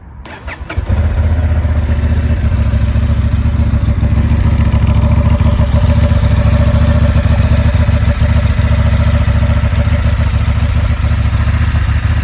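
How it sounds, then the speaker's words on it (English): A Honda Hornet 750 motorcycle with stock exhaust idles steadily and loudly after a quick start, its deep exhaust rumble continuous and close throughout. "The stock exhaust, it sounds so nice, but it comes with a bike"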